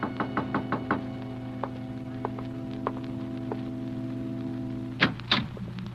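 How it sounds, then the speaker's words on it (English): Knocking on a door as a 1946 radio suspense drama effect: a quick run of five raps, then scattered single knocks, and a louder double knock near the end, all over a steady low electrical hum. "there was a knock on the door."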